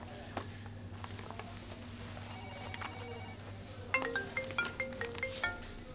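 A telephone rings faintly in an office during a business meeting, with a quiet hum underneath and a burst of repeated tonal ringtone pulses near the end.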